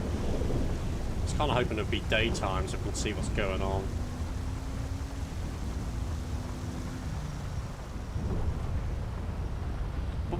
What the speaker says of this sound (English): Here comes the thunder.